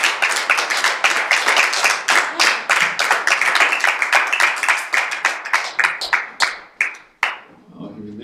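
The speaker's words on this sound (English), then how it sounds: "Let's give the Lord a hand and clap with you" A church congregation clapping hands together in a steady, fast rhythm, loud and close, with a few voices mixed in before the clapping trails off into scattered final claps.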